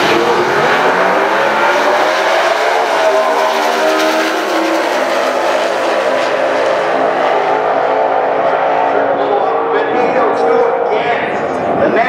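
Naturally aspirated Ford drag race car at a drag strip, its engine a loud continuous roar that rises in pitch as it accelerates down the track, with an announcer talking over it throughout.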